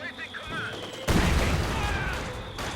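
Battlefield gunfire in the video game Company of Heroes 2 erupts with a sudden loud blast about a second in, then continues as a dense, rumbling wash of shots and explosions, preceded by quieter distant combat noise.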